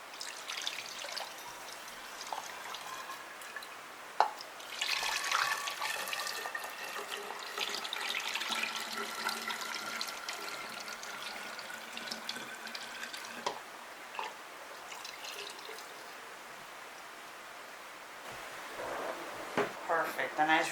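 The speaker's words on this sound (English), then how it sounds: "I'm going to be using a funnel to help me pour in my juice right in here." Juice is poured through a funnel into a jug while making iced tea, giving a steady trickling, splashing flow that runs on and off under a person's talking in a kitchen.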